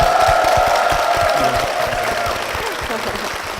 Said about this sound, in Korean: 우리 담임 목사님과 교회를 위해서 다시 한번 큰 박수 부탁드리겠습니다